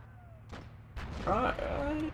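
Gunfire in the Army Men: Plastic Wars video game: a few sharp shots, then heavier bursts of fire at moderate distance. A player talks over the game sounds.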